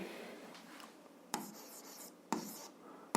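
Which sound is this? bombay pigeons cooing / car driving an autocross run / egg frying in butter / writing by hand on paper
writing by hand on paper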